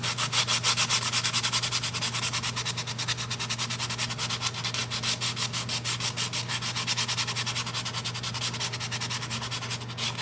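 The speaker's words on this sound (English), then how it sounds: "Now, sanding this little bit, you might get a little bit of your plastic in that seam." Steady rhythmic rasping of hand sanding a glued plastic seam, close and loud, with rapid back-and-forth strokes continuing without pause over a constant low hum.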